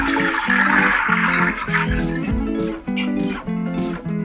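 Soaked lentils and their soaking water are poured into a pressure cooker, a splashing, gurgling pour that tapers into lighter trickles and drips, with background music playing throughout.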